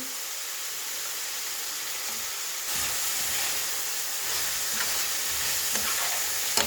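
Steady bright sizzling of onions frying in hot oil, continuous and close, with a few faint clicks of stirring and no voices.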